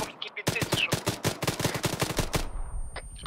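Rapid bursts of automatic gunfire crack out from a village in the military shooter Arma 3, a dense string of sharp shots over about two seconds, then tapering to a few scattered distant reports.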